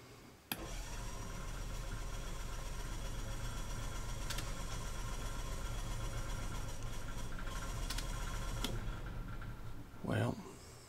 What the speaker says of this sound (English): We're gonna start a generator so we can get the TV going.